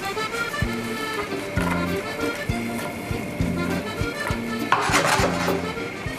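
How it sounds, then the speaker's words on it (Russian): Ingredients for a fricassee stirred and frying in a pan, with steady scraping and clinking of a utensil against the metal and a faint sizzle running throughout, close and fairly loud. "Даем обжариться"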